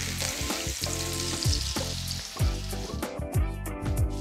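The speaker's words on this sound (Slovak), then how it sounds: "takýto pripravený steak dáme na panvicu, kde sme si už pripravili trošičku oleja a pridáme tam maslo" A steak frying in a pan with oil and butter, a loud, steady close sizzle with repeated low thumps and rattles as the pan shifts, with no voices.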